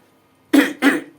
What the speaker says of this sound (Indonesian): Ulah batuk atuh.